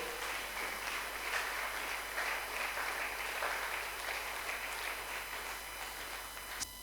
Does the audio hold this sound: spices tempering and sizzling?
no